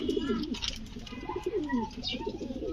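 A pair of black-and-white mukhi pigeons at a pigeon farm coo close by in continuous soft, rolling phrases, with faint chirps from other birds in the background.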